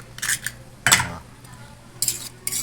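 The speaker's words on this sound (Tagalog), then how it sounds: "Halu-haluin lang natin." Eggs with onion and carrots are stirred in a pan, giving several quick clinking, scraping utensil strokes in short bursts with pauses between, close and fairly loud.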